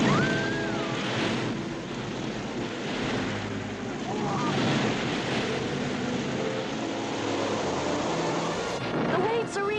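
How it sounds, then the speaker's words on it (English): Ocean waves surge and roll toward Noah's ark in a steady, loud wash with gusting wind, a broad continuous roar that swells and eases over the whole stretch without pause. "The waves are reaching us."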